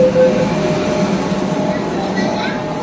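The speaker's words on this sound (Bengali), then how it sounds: "পিছনে আমার পিছনে যে মেট্রো ট্রেনটি দাঁড়িয়ে রয়েছে" A Kolkata underwater metro train at Sealdah metro station gives off a steady, loud mechanical rumble and hum. It is heard close up on the platform, continuous throughout, with no distinct voices.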